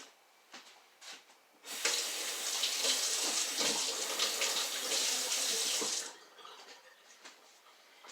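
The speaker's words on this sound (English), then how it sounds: "I'm going to give my hands a quick rinse from the onion" Hands rinsed under a running kitchen tap after chopping onion, a steady close hiss of water into a sink lasting a few seconds, with small clatters before and after.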